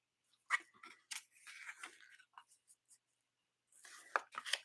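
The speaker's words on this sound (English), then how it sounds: "We're going to go ahead and cut some ribbon for this one too." Scissors snipping ribbon for a handmade card, a few short crisp cuts close up and quiet, with soft rustling between them.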